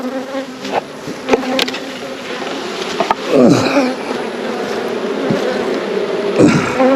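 Honey bees swarm around an opened hive during a beekeeping check, a dense steady buzz close by with individual bees droning past the microphone now and then.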